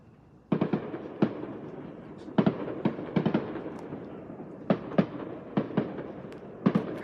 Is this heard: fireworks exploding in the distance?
yes